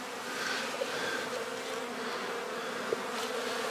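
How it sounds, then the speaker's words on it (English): Honeybees buzz around a backyard hive in winter, a steady, close, droning hum of many insects with a few louder passes near the ear. "I mean, that's a lot of bees."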